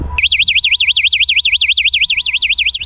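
A smartphone-linked bicycle anti-theft alarm lock goes off when shaken, a loud piercing electronic siren warbling rapidly up and down in a steady cycle for a few seconds before stopping abruptly.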